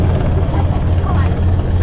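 Medevac helicopter hovering and standing off beside a Royal Caribbean cruise ship at sea, a loud steady rotor thrum and engine roar filling the whole stretch with a strong low pulsing drone, with a voice talking faintly over it.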